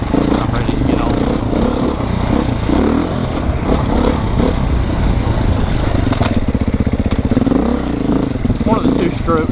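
A Beta 430RR four-stroke dirt bike engine runs loud and steady throughout, with a rough, throbbing low rumble and slight shifts in revs, and people talk over it.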